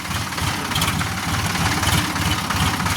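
A tractor engine idles close by, a loud, steady low chugging rumble that carries on without a break for the whole stretch.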